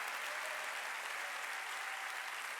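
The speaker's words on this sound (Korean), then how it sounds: "깨달은 사람은 박수." A church congregation claps during a Sunday worship service, a steady, even patter of applause filling the room at moderate level with no voices over it.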